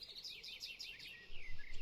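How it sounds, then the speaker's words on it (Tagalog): Birds chirp and sing in a steady run of short, high tweets, fairly faint and distant in a quiet nighttime setting, with no voices. "ang mga ibon ay nagsimulang umawit kahit kalaliman na ng gabi"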